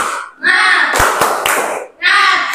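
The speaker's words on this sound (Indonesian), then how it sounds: "Ayo, tepuk semangat." A class of children's voices chant together in a classroom, broken by three quick, sharp claps in a rhythmic pattern midway.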